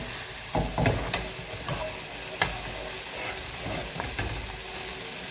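Onions frying in a pan hiss and sizzle steadily up close, broken by several sharp clinks and scrapes of stirring, with no speech over them.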